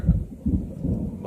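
Low rolling thunder from a summer thunderstorm over a yard rumbles in two or three heavy swells, loud and deep with a faint rain hiss, no voices.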